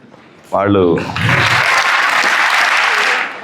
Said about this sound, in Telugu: వీళ్ళిద్దరి కోసం చప్పట్లు కొట్టండి